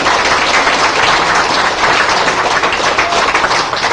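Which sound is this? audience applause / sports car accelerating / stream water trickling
audience applause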